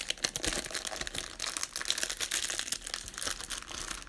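A Donruss baseball card pack wrapper is torn open, giving close, continuous crinkling and crackling of foil plastic for a few seconds with no talk.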